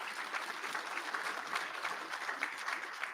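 Sustained applause from the audience at a university spring commencement for graduating graduate students, a dense, even wash of many hands clapping heard from a distance at a moderate level.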